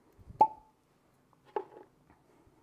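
A cork pops out of a bottle of Penelope Heavy Char bourbon, a short hollow plop followed by a second softer squeak of the stopper, close up and otherwise quiet.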